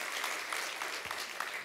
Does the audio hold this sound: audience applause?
yes